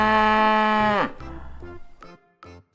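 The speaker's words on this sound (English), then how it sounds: "Cows make this sound." A cow gives one long, loud, close moo that drops in pitch and trails off, followed by a few fainter, shorter grunts.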